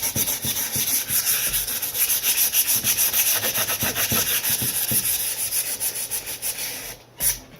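Hand rubbing back and forth to blend wax edges, a rhythmic scratchy sanding-like stroke repeating about twice per second, close and clear, slowing and stopping near the end.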